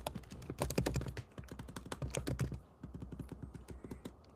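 Rapid keystrokes clatter on a computer keyboard while code tests are being written, a dense close-up burst of taps that eases into a sparser, steadier rhythm.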